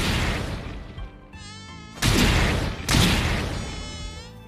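A mosquito-buzzing sound effect for the anime One Punch Man, a thin, wavering whine that fades in and out, broken by two loud, sharp slapping impacts.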